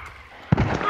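A single distant gunshot cracks once from afar in Hunt: Showdown, a brief muffled report in an otherwise quiet outdoor scene.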